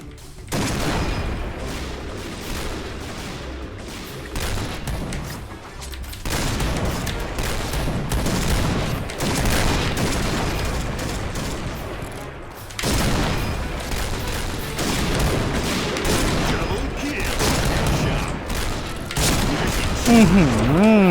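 Sniper rifle fire in the online shooter Point Blank: sharp shots crack out repeatedly through the clip, mixed with game effects and a player talking over the action.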